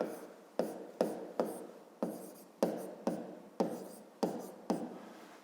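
A pen writes on paper during a fifth-grade math exercise, making about a dozen quick scratchy strokes in an even rhythm, each a short close rasp that fades before the next.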